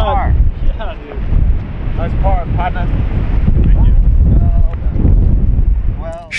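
Strong wind buffets the microphone on the Pacific Dunes golf course, a loud continuous roaring rumble that dominates, while people shout and exclaim over it.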